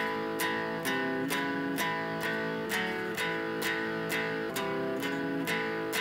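An electric guitar plays a chugging twelve-bar blues shuffle riff in A on power chords, with steady accented strums repeating in a swinging rhythm, close and clear.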